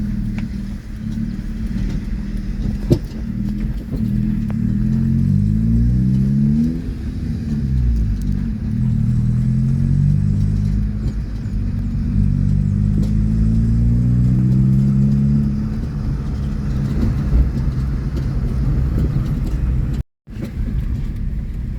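A tricycle's motor engine revs and rumbles steadily for about twenty seconds, close and loud, with rising and falling pitch sweeps, then cuts out briefly near the end before resuming.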